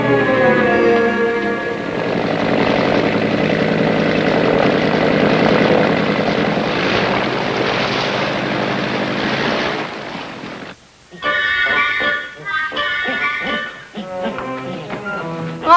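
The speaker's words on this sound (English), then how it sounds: "I heard the plane coming" A propeller airplane drones loudly and steadily as it approaches, a sustained engine roar that breaks off abruptly, followed by a burst of music.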